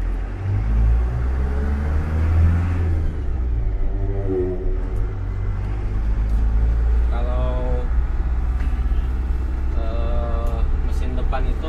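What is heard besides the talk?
front-engine medium bus engine revving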